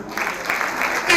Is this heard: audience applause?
yes